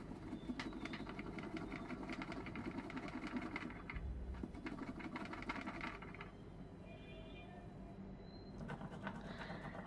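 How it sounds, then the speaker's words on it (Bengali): Green chili ground by hand on a traditional Bengali stone slab (shil-nora) while making aloo posto: a close, steady run of rhythmic rasping scrapes of stone on stone, with no talking. "কাঁচা লঙ্কাটাকেও আমি শিলনোড়াতে ভালোভাবে বেটে নেব।"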